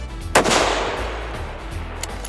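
A single bolt-action rifle shot at a long-range precision rifle match cracks sharply, then its boom rolls out into a long fading echo across open terrain. No other shots follow.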